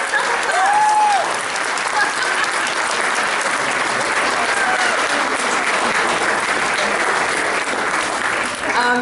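An audience at a book launch claps steadily and loudly for several seconds, a thick continuous roar of many hands, with voices and a few whoops rising briefly within it.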